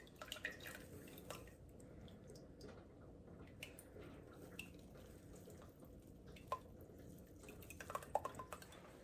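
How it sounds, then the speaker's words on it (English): Homemade elderberry calendula elixir drips from a strainer held up over a container, giving soft, irregular drips and small wet squishes against quiet background noise, with no talking. "we're just gonna hold it up and let it drip for a little bit"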